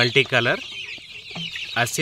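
Close, high-pitched clucking and chirping from several young Asil multi-colour chicks in short bursts, with quiet gaps between calls.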